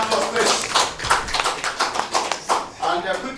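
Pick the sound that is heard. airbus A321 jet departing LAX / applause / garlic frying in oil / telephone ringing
applause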